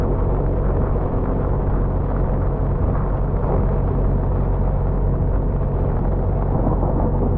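Deep, continuous rumble of thunder heard from aboard a narrowboat cruising on a river, a broad low roar that stays steady and fairly loud across the whole stretch with no voices.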